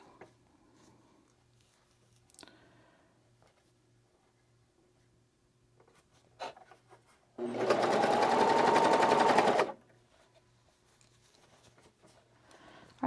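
Serger sewing machine stitching a neckband onto a classic tee gives one loud, fast whirring burst of about two seconds, with quiet handling noises and a faint background hum before and after.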